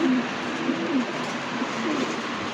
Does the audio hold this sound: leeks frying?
no